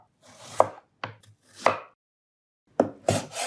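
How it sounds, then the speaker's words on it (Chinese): A knife cuts peeled radish into large chunks on a cutting board, with five or six heavy, separate chops spaced by short pauses, close and loud, with no talking. "先把萝卜洗干净，去了皮，切成大块的滚刀块。"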